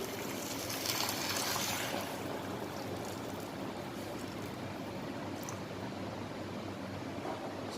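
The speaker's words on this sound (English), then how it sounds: "So now the time we will mix the water into the mixture." Water is poured into a cabbage roll mixture in a saucepan, making a faint, steady rushing trickle that holds evenly for several seconds.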